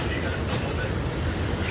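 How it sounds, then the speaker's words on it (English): An R211T subway train runs express on the G line of the IND Crosstown route, heard from inside as a loud, steady low rumble of wheels and car noise with no break. "This is the G Express train."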